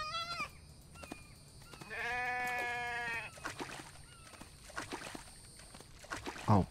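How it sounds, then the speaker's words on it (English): Sheep in the survival video game The Infected give a clear, wavering bleat in the middle, with fainter bleat fragments and soft clicks and footfalls around it, heard alone without talk. "Sheep."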